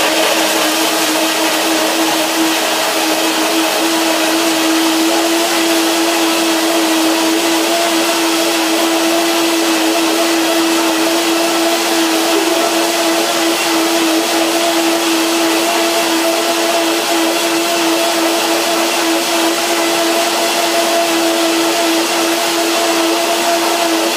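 A kitchen blender grinds nuts and bananas for a raw vegan apple coconut breakfast, a loud steady motor whine with a constant pitch that runs unbroken from start to finish with no talking.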